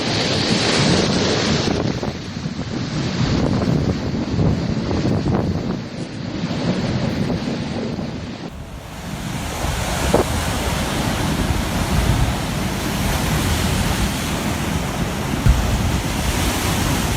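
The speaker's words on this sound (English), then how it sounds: "Huge waves repeatedly slammed into Acadia National Park, as though the ocean was throwing its full force directly against the rocky shoreline." Huge ocean waves slam against the rocky shoreline of Acadia National Park: a loud, continuous roar of surf and spray with heavy wind buffeting the microphone and surges that rise and fall without any voices.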